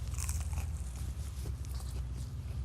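Close, crunchy bites into a smashburger crunch wrap, a tortilla-wrapped burger with a crisp shell, several quick crunches and chewing sounds at moderate level with no talking.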